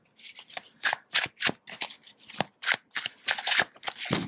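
Rapid riffle shuffles of a deck of cards, close up, a burst of crisp flutters repeating in quick bursts with no talking.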